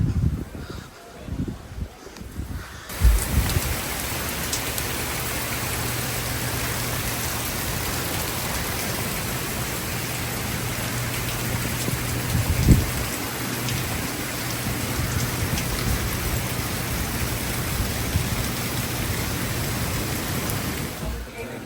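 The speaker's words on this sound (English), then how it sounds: "Getting absolutely wrecked by a storm right now." During a storm under a tornado warning, heavy rain roars as a steady, dense hiss. There are a few thumps at the start and a brief knock midway, while faint voices sit underneath.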